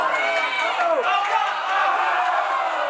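A wrestling crowd cheers and shouts loudly and steadily after a wrestler's dive to the outside of the ring, a dense continuous roar with scattered whoops throughout.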